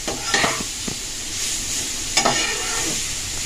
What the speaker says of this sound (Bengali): গাজরটাও এটার মধ্যে নেড়ে নেব তেলের মধ্যে ভালোভাবে একটু।